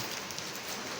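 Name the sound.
rain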